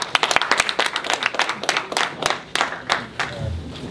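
Audience applause closing a community press conference on Ebola in Franklin Township, New Jersey: dense, uneven clapping from a modest crowd, steady and fairly close for several seconds with no talking over it.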